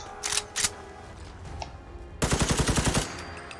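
An automatic weapon fires in Fallout 4: two short bursts at the start, then after a pause a loud, steady stream of about ten evenly spaced rapid shots lasting roughly a second, with no talking.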